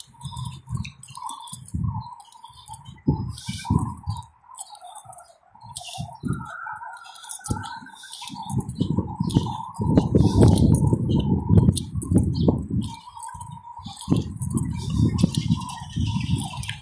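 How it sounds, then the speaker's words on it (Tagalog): Birds chirp and call intermittently in Al Khoud park in Muscat, Oman, an open outdoor space, with people talking nearby and a steady background hum. "May mga ibon doon sa bandang dulo."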